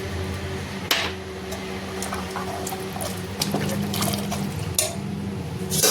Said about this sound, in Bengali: আমি এই রাজমা ভিজানো জলটাই ইউজ করছি, দিয়ে দিচ্ছি।